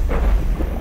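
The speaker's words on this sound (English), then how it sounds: "Wow, that explosion sound is cool." Bomb blast in the stealth video game Dishonored: one deep, rumbling boom that swells quickly and rolls on for the whole moment, loud and close, with no voices over it.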